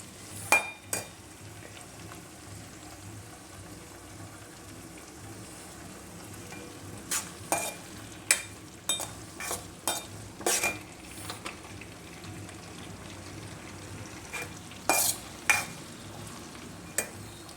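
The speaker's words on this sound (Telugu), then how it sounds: "ఉల్లిపాయలు వేసుకున్న తర్వాత ఒకసారి ఇలా కలుపుకుంటే సరిపోతుంది" Onions fry in hot oil under a low, steady sizzle. Intermittent clinks and scrapes of a metal spoon against the pan come and go as they are stirred, with several clustered knocks in the second half.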